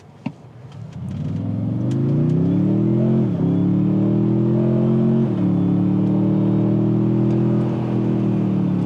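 A 2025 Toyota Tundra TRD Pro pulls hard at full throttle in sport mode, its engine note climbing steadily with a brief dip around each gear shift, loud and close throughout with no talking.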